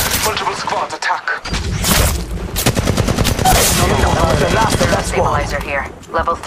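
Gunfire in the mobile video game Apex Legends Mobile: dense rapid automatic bursts and repeated shots, loud and close, running almost continuously, with game voice lines mixed in.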